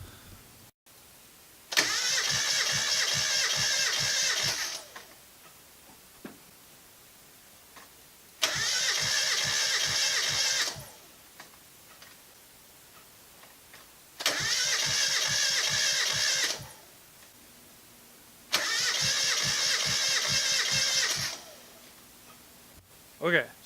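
Mazda Miata engine cranking over during a wet compression test, four separate bursts of steady rhythmic starter churning, each about three seconds long, with quiet pauses between them.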